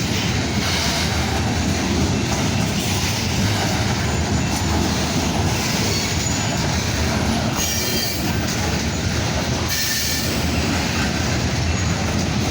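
A freight train with three locomotives and three distributed power units rolls past up close, with a continuous rumble of wagons, wheel squeals and rhythmic rail clatter throughout.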